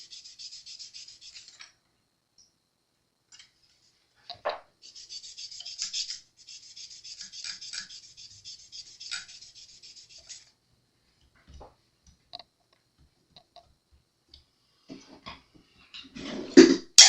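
Guitar frets on an Ibanez XPT 700 electric guitar being polished with the strings off, a dry rasping rub in repeated strokes, close and fairly quiet, with pauses and a few small knocks between passes.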